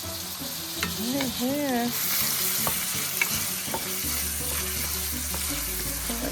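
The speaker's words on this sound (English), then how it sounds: "now it's time to stir a little bit" Onion, ginger, garlic and cracked whole cardamom pods frying for a Malaysian chicken coconut curry, stirred with a steady sizzle and scraping strokes close up, while someone speaks briefly and a tonal melody plays at the start.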